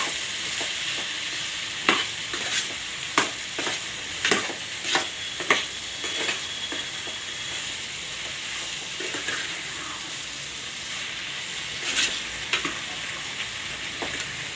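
A spoon works through a drumstick and tomato curry with turmeric in a pan, giving a run of sharp scraping clicks over a steady, close sizzle, with a few more strokes near the end.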